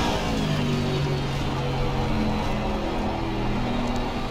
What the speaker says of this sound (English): I love that sound, V12 vantage.